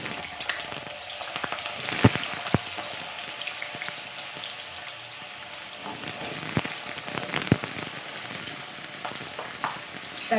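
Potato pieces frying in hot oil in a wok for a potato and petai dish, a steady close crackling sizzle with occasional sharp pops and stirring taps, no talking.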